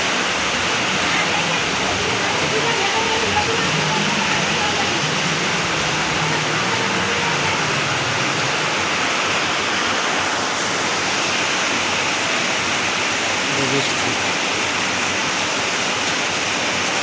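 Heavy rain pours down in a steady, dense hiss that runs unbroken and loud throughout, with no voices over it.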